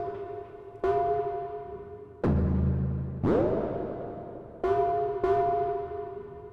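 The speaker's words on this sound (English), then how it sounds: "This is the sound of the synthesizer, but the plant is actually generating the triggers for those sounds" Electronic synthesizer tones triggered by a plant sound in separate struck events, some bright and ringing, one deeper and buzzier, each decaying before the next starts at an irregular pace.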